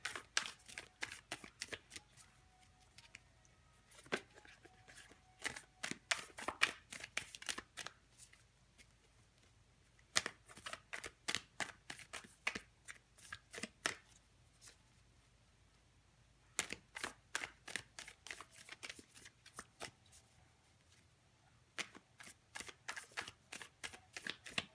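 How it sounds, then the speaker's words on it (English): Tarot cards being shuffled by hand, in bursts of rapid crisp riffling clicks separated by brief pauses, close and fairly quiet with no talking. "I have the hardest time shuffling"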